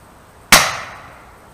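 A single sharp shot from a Condor .25 air rifle, one loud close crack with a quick onset and a short decaying tail, standing alone in quiet surroundings.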